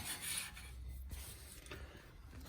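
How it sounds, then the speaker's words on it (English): A rag rubbing paint off a truck spindle where the seal will sit, during a Belltech 3-inch drop spindle install: a soft, continuous scrubbing rasp with a few brief scuffs, close and fairly quiet, with no talking. "Rubbing the paint off this part right here where the seal's gonna rub."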